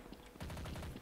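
A short burst of rapid gunfire in Counter-Strike on the Dust2 map breaks out after a brief quieter moment, with fast repeated shots that sound fairly muffled and somewhat distant.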